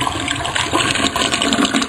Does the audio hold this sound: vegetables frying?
no